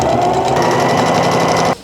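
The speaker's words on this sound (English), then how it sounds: "now I am going to sew up the sides and the bottom of this pocket" Sewing machine stitching the sides and bottom of a fabric apron pocket, a steady close whirring hum running continuously before stopping abruptly near the end.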